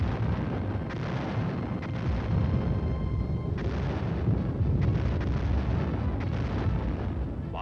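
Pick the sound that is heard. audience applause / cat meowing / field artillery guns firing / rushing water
field artillery guns firing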